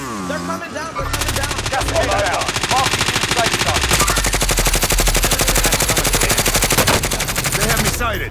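A long, rapid automatic weapon burst rattles in a video game, the rhythmic shots steady and loud for several seconds after a voice speaks briefly at the start.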